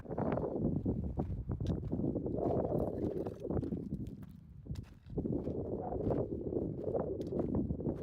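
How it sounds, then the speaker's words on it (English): Wind gusts along a canyon trail in Red Rock Conservation Area near Las Vegas, a steady rumbling buffet on the microphone that dips briefly midway, alone and fairly loud. "There is wind now, though."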